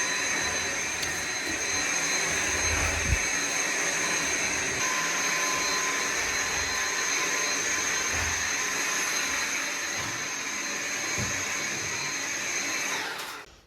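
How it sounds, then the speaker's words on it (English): A vacuum cleaner runs steadily during cleanup after a dining room renovation, a loud continuous whine with a high tonal pitch that holds for the whole stretch and cuts off at the end. "just vacuuming"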